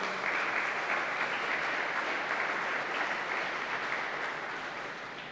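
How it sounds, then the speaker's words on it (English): Sustained, fairly even applause from spectators for both pairs of players after an O'Meara Gloves doubles handball final at an alley, tapering slightly toward the end. "big round of applause for both sets of players"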